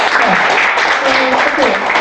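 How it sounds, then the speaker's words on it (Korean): Audience clapping at a Korean lecture on tar pits and Cenozoic mammals, a short dense burst of applause filling the whole stretch at a fairly loud, steady level. "저 박수 한번 쳐주세요."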